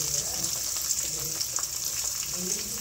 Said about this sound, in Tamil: ஏற்கனவே சிக்கனை வறுத்த அதே கடாயில் சிறிதளவு எண்ணெய் ஊற்றி உடைத்து வைத்த முட்டைகளை அதில்